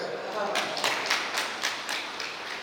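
Audience applause at a Hindi study camp lecture session, a steady patter of many hands clapping at moderate distance with a few sharper claps standing out, lasting a couple of seconds.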